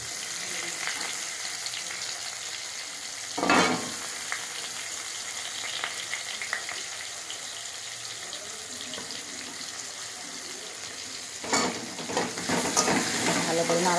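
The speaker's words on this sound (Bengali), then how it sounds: "পেঁয়াজ কুচি দিয়ে দেবো। পেঁয়াজটা ভেজে নেবো লাল লাল করে।" Chopped onions fry with a bay leaf in hot oil in a pan where potatoes were just fried, a steady close sizzle with two louder bursts of stirring.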